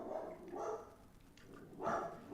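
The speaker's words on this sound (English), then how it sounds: "I apologize for the dog barking." A dog barks in a few loud bursts, close by, with short pauses between them and no talking.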